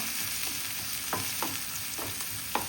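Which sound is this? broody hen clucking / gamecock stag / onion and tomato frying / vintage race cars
onion and tomato frying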